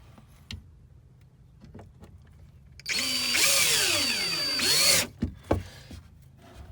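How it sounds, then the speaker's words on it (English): A power drill drives screws into wood during an RV leveling-system install, whirring loudly for about two seconds with a rising then falling motor pitch, preceded and followed by quiet handling clicks. "I'm going to go ahead now and drill that in"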